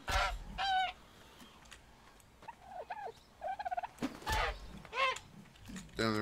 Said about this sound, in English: Let me just grab these dodo birds real quick.